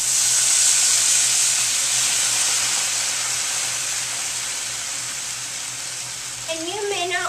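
Fajita seasoning mix hisses and steams in a hot pan, a bright, steady sizzle heard up close that fades slightly before a brief stirring sound at the end.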